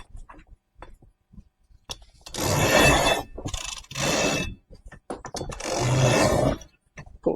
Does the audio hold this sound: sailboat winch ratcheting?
yes